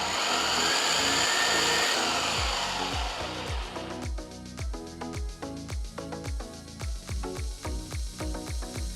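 Mixer grinder blending chutney of ginger, green and dried chillies and jaggery, a loud continuous motor roar that turns into rapid pulsed bursts as it is switched on and off.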